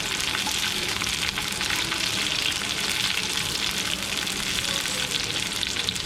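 Chopped green chillies fry with browned onions in a pan for a chana dal and bottle gourd dish, giving a steady, loud, close hiss of sizzling oil that runs unbroken throughout.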